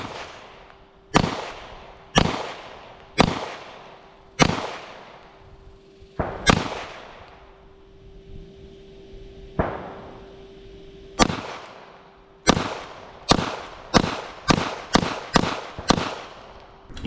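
Girsan MC21 pistol fired about fifteen times at close range, sharp loud cracks with short echoing tails, some single and spaced apart, others in quick strings, with a faint steady tone running underneath.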